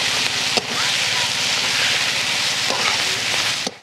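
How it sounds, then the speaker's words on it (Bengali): Spice masala sautéing in oil in a wok for a country chicken curry: a loud, continuous close sizzle and crackle, with a few scraping stirs of the spoon. "মশলাগুলো খুব ভালোভাবে কষানো হয়ে গেছে আর তেলও ছেড়ে দিয়েছে"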